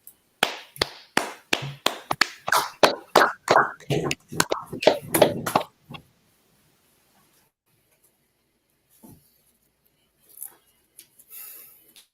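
Several sharp claps in a quick, uneven run at a ceremony-style gathering, near and fairly loud, with a few faint, scattered sounds trailing after a long gap.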